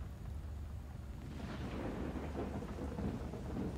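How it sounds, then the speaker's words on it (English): A thunderstorm with a low rolling rumble of thunder over a steady hiss of falling rain, heard at moderate distance and fairly faint, with no speech. "Are you afraid of the thunder?"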